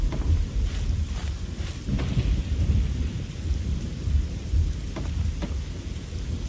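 A thunderstorm in the game Fallout 3: heavy rain pours steadily on surfaces while deep thunder rumbles underneath, and scattered sharp drops or crackles stand out. The storm fills the scene loudly, with no voices.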